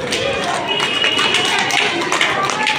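Schoolchildren in a kindergarten classroom clap for quiz contestants, a dense, loud, uneven patter of small hands with bright chatter mixed in.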